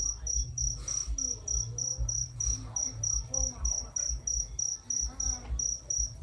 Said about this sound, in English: The crickets, they're probably louder than us.